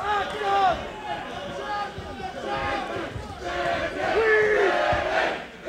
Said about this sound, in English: Crowd very much behind Maddalone in here